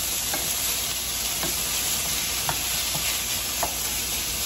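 Food frying in a pan for Turkish stuffed melon, a steady moderate sizzle with a handful of spaced spoon scrapes as it is stirred, no one speaking.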